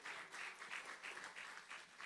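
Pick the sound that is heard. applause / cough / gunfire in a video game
applause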